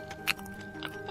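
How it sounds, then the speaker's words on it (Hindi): Crunchy bites of crispy fried fish being chewed close up, a couple of short crisp crunches over a steady background with no talking. "उसके बाद अमन ने उसके कुरकुरे और स्वादिष्ट फिश फ्राई खाने लगता है"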